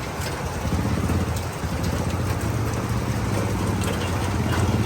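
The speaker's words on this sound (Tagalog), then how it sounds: "Lakas pa rin ang ulan, mga to." Heavy rain pouring down during a storm, a dense continuous hiss of drops on surfaces with water already pooling, steady and loud throughout, with a faint low engine hum underneath.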